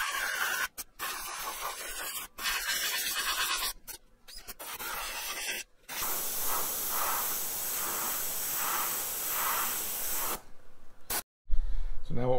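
An airbrush sprays white paint across the edges of a ball helmet, a steady close hiss interrupted by brief breaks, with a faint pulsing texture and a final short burst.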